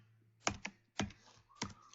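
A few sharp, close keystrokes on a computer keyboard with a poorly working spacebar while coding in C#, landing as three distinct clicks spaced about half a second apart in an otherwise quiet room.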